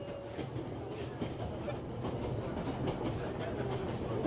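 In the war game 11-11: Memories Retold, a train rolls along with a continuous low rumble and soft rhythmic clatter, fairly quiet and steady.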